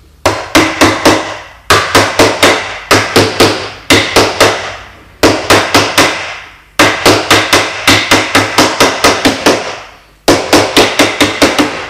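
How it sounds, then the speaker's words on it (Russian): A tool punches repeatedly through stiff sound insulation during a quick body repair. It makes loud, close, sharp strikes in fast bursts of about five or six, with short pauses between the groups, and no talking. "я пробиваю еще и сквозь шумоизоляцию"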